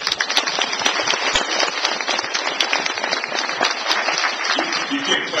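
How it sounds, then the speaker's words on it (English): Audience applause at a 2010 Innovator Award presentation, steady dense clapping filling the room for several seconds without a break. "You can't clap too much of these folk"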